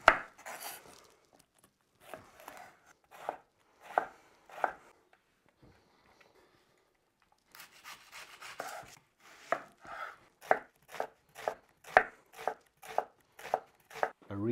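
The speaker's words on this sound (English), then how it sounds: "Real test of a chef. Cutting onions but not crying." Red cabbage and onions are chopped with a knife for pickling, a few scattered cuts on a board at first, then a pause. After that comes a steady, brisk run of close, crisp knife strikes with no talking.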